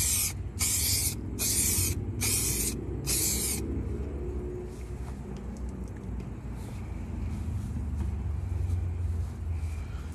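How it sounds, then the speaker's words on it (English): Raptor primer is sprayed as a second coat over a car rust repair: several sharp, rhythmic hissing bursts of aerosol spray in the first few seconds, followed by a low steady rumble of background noise. "So we're gonna spray the second coat on. Do it a little heavier."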